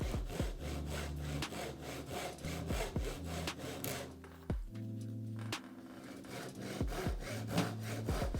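A hand saw cuts small wooden parts in rapid rhythmic back-and-forth strokes, close and crisp, pausing briefly before resuming.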